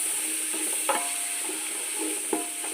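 Spices and chilli powder sizzle in a hot pan for coconut rice, with close stirring scrapes and two sharp utensil clicks against the pan over a steady frying hiss, no voice.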